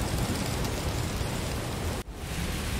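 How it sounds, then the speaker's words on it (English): Steady rain pouring outside during a thunderstorm, a dense even hiss with low rumbling underneath and a brief drop in the wash near the end, no voices. "It's raining outside, and by the sound of it, it seems that there's a thunderstorm coming in."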